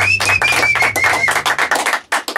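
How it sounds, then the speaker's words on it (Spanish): A small studio audience claps for the band in a brief, uneven burst of applause, hands striking in quick irregular taps over a faint sustained tone, fading out after about two seconds. "un fuerte aplauso"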